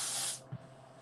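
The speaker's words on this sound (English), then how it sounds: "this spray that we're doing, this fog that we're doing right now" A fogging machine sprays a fine mist of 3 to 5 micron droplets, a loud steady broadband hiss that cuts off sharply partway through, leaving a quiet room with a brief low thump.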